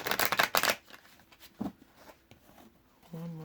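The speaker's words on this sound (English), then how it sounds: "2 more shuffles." A quick riffle of shuffling cards at the start, followed by soft handling taps and a brief hum of a voice at the end.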